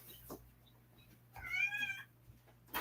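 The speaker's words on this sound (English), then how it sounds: "my cat's screaming at me" House cat meowing loudly at its owner, one drawn-out, wavering meow following a few faint clicks and soft sounds, close to the listener.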